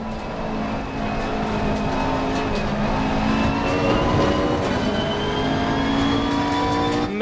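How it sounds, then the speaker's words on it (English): A GT3 race car engine in a racing video game revs hard and climbs through gears, a loud continuous whine rising in pitch between brief shifts, close and alone without talk. "I've been to a GT3 race with real GT3 cars, and they do sound like this."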